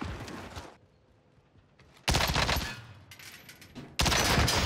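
Gunfire in a shooter video game with an AK-47 rifle, long loud automatic bursts separated by a quieter pause, the second and third barrages cutting in abruptly at full volume.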